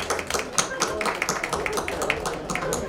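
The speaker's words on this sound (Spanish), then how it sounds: "Por favor, también damos un fuerte aplauso a la maestra Paola," An audience at a round-table discussion for Book Day in Chapingo applauds, with irregular, fairly faint claps and taps rising and falling over a few seconds and voices murmuring underneath.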